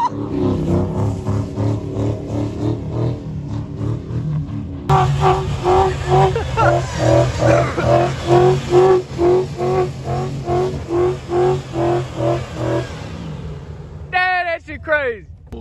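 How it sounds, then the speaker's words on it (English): A drag truck does a high-speed drift in snow, its engine roaring in loud rhythmic surges with pulsing revs, while voices shout over it and a brief sharp squeal comes near the end. "We're doing a high-speed drift."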